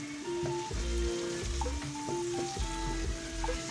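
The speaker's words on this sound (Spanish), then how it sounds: "vamos a añadir ahora la zanahoria y vamos removiendo un poquito" Chopped onion and carrot sizzle in a pan for a seafood fideuà, with soft scraping and stirring strokes coming in a loose rhythm and steady frying underneath, while music plays quietly in the background.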